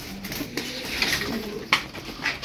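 Ankara Kırı pigeons, a Turkish play breed kept as a flock of eleven birds, give soft, low, rolling coos against a steady background hiss, with a couple of sharp brief knocks in between.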